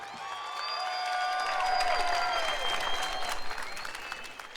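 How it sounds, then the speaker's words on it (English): Crowd at a fight event applauding the fighters in the center ring, a broad sustained wash of clapping and cheering that swells and stays loud, with whistles and excited voices mixed in. "Ladies and gentlemen, have a round of applause for these fighters."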